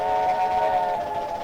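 A steam whistle of an MNRR T-3 4-6-0 locomotive in the Trainz 2019 simulator sounds as one sustained, chord-like tone that fades a little near the end, alone with no other sounds.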